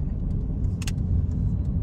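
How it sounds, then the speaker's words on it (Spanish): Street traffic on Calle Segunda in Tijuana: a steady, close car engine rumble fills the whole stretch, with brief lighter clatter around the middle and no talking. "A ver qué tanto tráfico hay aquí."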